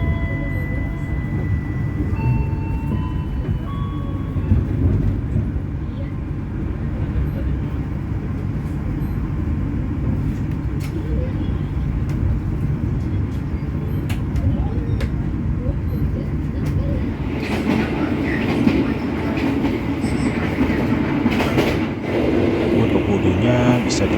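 Tegal Bahari passenger train of PT Kereta Api Indonesia rolls steadily along the rails in a continuous loud rumble heard from inside a coach, with faint clicks and an announcement voice at the start and a brighter rush late on.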